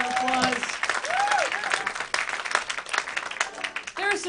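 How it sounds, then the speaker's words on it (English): An audience at a live band show claps and cheers in a steady burst of applause, with voices calling out above the crowd. "I think that deserves a round of applause"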